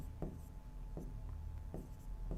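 A marker or chalk strokes across a classroom board during a maths lesson on area, with several distinct, evenly spaced scratchy strokes heard close and alone.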